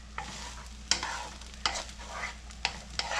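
Spiced brinjal rice (vangibath) with a little ghee is mixed briskly in a pot, giving four or five distinct scraping strokes over a low sizzle, close and alone.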